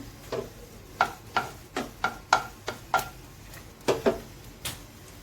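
A bay leaf and a whole dried red chili frying in hot oil, giving sharp, irregular crackles and pops over a faint background sizzle, about a dozen distinct spits.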